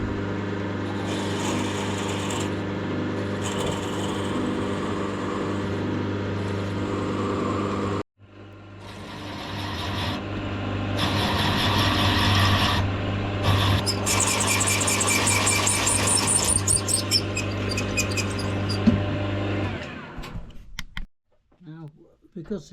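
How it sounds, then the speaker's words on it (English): Pilot drilling a Quorn MK3 wheelhead collar on a machine, a steady motor hum under a high squealing drill that cuts out briefly, then resumes with rising chatter before winding down. "Now I'm pilot drilling this first"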